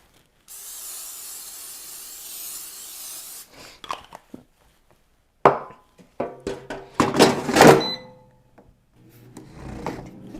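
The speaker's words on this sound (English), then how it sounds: "take some cooking spray or brush oil on it" Cooking spray hissing out of a can onto bread dough in a single sustained burst, followed by scattered kitchen handling noises and clatter.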